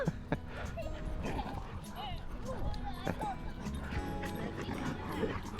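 At a dog park, a dog lets out intense yips, whines and growly vocal bursts in quick, irregular runs, with people talking close by over the top.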